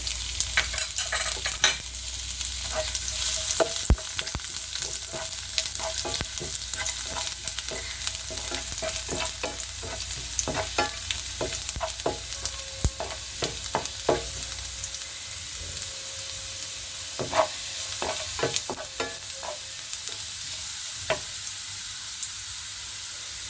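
Minced garlic fries in a pan for a Chinese-style egg chilli dish, a steady sizzle broken by frequent sharp scrapes and clinks of a stirring spoon, with a brief stretch of running tap water partway through.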